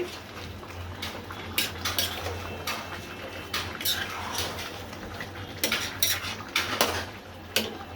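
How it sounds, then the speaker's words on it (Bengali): A dish in a pan being stirred after cardamom powder goes in, with repeated scraping and clinking strikes of a utensil against the pan at an irregular rhythm, close and moderately loud over a low steady hum. "আবার নেড়ে চেড়ে দিচ্ছি।"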